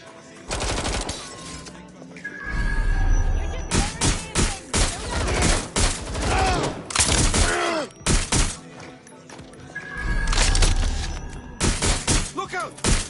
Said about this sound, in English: Look out! Taking fire!